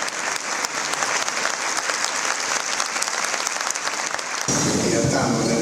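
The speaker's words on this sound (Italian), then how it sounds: "lunghi applausi hanno accolto il discorso fuori programma del Presidente della Repubblica Sergio Mattarella" Long, dense applause greets President of the Republic Sergio Mattarella after his unscheduled speech in Militello Val di Catania, a loud sustained crowd clapping that swells fuller near the end.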